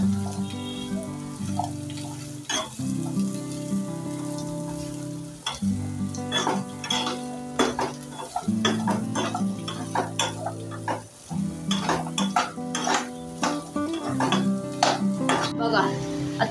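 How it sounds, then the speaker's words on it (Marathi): Mixed vegetables fry in a pan for dhaba-style veg kolhapuri, giving a steady sizzle with scattered stirring clicks and utensil knocks beneath a prominent, repeating musical backing. "3-4 मिनिटं आपल्याला सगळ्या भाज्या अशाच फ्राय करून घ्यायच्या आहेत."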